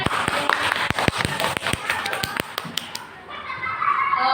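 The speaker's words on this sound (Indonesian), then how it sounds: "Tepuk tangan semuanya." A group of teachers claps together at a school workshop session, sharp separate claps in a quick, fairly regular rhythm that stop after about three seconds, leaving a quieter room.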